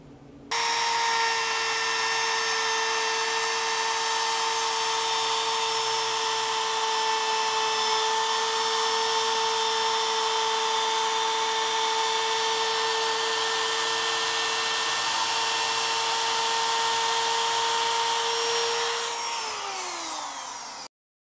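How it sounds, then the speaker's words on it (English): Router cutting a 45-degree chamfer along countertop edges in a tiny house kitchen build: a loud, steady high-pitched motor whine running continuously at close range, then winding down at the end, with no talk. "we're gonna put this on the router, put a 45-degree chamfer on all the upper surfaces"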